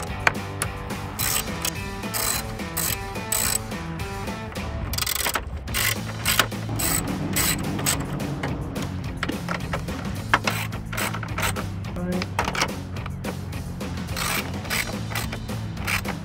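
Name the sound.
ratchet tightening studs on F-150 grille emblem housing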